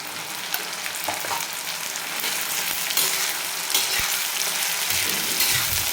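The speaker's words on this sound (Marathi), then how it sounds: "ह्याला पण आपल्याला दोन मिनिट चांगलं परतून घ्यायचं" Onion with green masala paste sautés in a pan, a continuous close sizzle with occasional spatula scrapes and knocks against the metal, loud and uninterrupted by voices.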